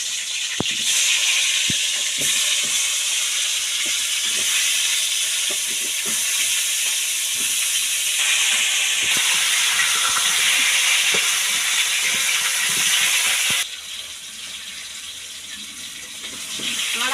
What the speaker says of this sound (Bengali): আমার তেল গরম হয়ে গেছে আলুগুলো দিয়ে দিলাম ভাজার জন্য